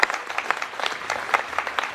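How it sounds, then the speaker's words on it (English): Audience applause for the construction team at a high school building ribbon-cutting ceremony, a steady burst of many hands clapping with sharp individual claps throughout. "if I could ask for just some applause for the construction team"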